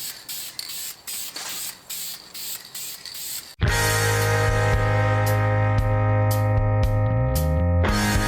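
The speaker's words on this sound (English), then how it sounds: "So we're gonna go with a nice light first coat again, and then like I said, I'm probably gonna do 3 coats on these." Engine cylinder heads from a small block Chevy Vortec get sprayed with VHT red-orange paint: several close hissing bursts with short pauses, then a loud, steady tonal hum takes over to the end.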